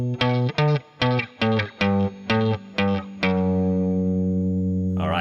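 Electric guitar with distortion and effects plays a short beginner rock riff variation, a run of punchy chopped notes ending on a long ringing sustained chord, loud and close with no talking.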